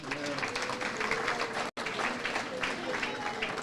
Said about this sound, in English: Give that a round of applause now.